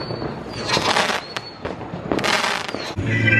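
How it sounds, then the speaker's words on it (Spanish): Outdoor fireworks on New Year's night, several loud bursts and crackling explosions in quick succession, with sharp pops and whistles cutting through. "disfrutando los fuegos artificiales"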